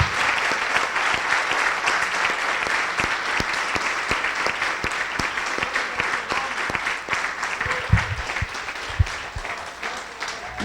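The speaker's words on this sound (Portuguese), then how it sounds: "Vamos dar uma salva de palmas a Jesus." A congregation at a church service claps in sustained applause for Jesus, many hands beating dense and steady, with a few louder claps and faint voices mixed in.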